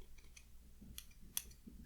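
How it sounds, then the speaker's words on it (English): Little scissors snipping during a haircut, with a few quiet, crisp metallic snips spaced out against a faint background. "I also have these little scissors"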